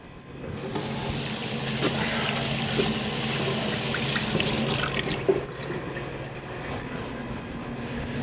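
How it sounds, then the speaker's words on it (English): Hands are rinsed under a running kitchen sink tap, giving a loud, steady gush of water that tapers off near the end, with no talking. "I'm going to run over there and just rinse my hands in the sink"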